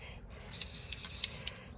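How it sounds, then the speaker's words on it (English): A spray paint can hisses out a coat of paint outdoors during spring garden cleanup, in a soft, fairly faint continuous spray with a few brief sharper bursts. "So I'll just go back and give this another little coat of spray paint."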